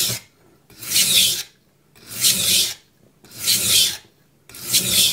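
A knife is sharpened on a Shapton Pro whetstone: four close, steady rasping strokes in an even back-and-forth rhythm, each separated by a short pause, with no voices.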